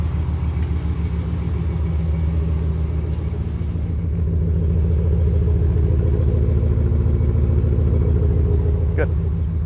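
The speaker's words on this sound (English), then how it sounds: "Give her a good old rev." A 5.7-litre HEMI V8 in a 2019 Ram 1500 runs at a steady, loud, close idle and rumble throughout. The engine note rises slightly partway through as it is revved, with voices talking over it.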